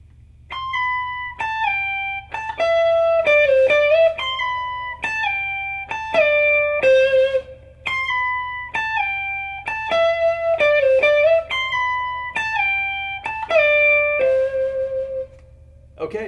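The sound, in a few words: electric guitar riff played with slides and pull-off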